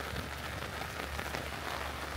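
Steady rain falling on a Batangas nature campsite, a dense, continuous hiss of drops on surfaces with no pauses.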